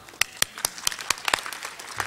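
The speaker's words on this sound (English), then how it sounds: "I'd like to thank you for making the time to come out tonight so that we could applaud you" Scattered audience members clap at a school board meeting, giving a short, uneven round of applause with individual claps distinct and close.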